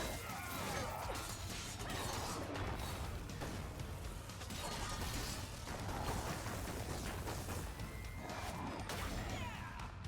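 A mace-wielding boss in the video game Lost In Random pounds the ground, producing heavy crashing impacts within a dense, loud wash of game noise and rumble that persists throughout.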